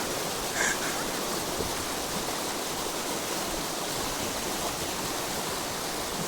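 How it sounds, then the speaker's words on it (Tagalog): A river flowing at a hidden spot in Isabela, Philippines, giving a steady, loud rush of water that runs unbroken throughout, with no voices over it. "Nasa ilog kami."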